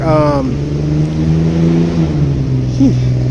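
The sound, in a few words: loud truck passing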